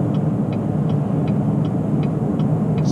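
Steady road rumble of an RV cruising at 50 miles an hour with a rear section duct-taped up, a dense low drone with faint regular ticking over it, no voices.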